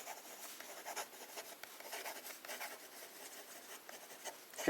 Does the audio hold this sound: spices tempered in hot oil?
no